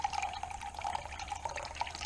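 Juice from a can of green beans pours into a container as a thin, steady trickle, quiet and close, with soft splashing and no talk.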